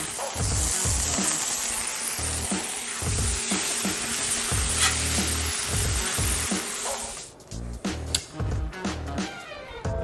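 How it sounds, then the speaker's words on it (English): Burgers frying in bacon fat give a loud, dense sizzle with crackling pops, close up, which drops off into scattered clatter and scraping near the end. "I'm gonna cook them in the bacon fat."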